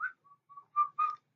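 A person whistles a short run of clear, pure notes, two brief soft tones followed by two louder, fuller ones, with no talking.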